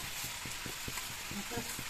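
Rice fried and stirred with peas in a pan, a steady close sizzle broken by repeated scraping strokes of a spoon against the metal.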